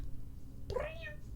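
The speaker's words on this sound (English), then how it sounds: "Is that a cat?" A cat gives a single drawn-out, rising and falling meow in a room, close and fairly clear against a low background hum.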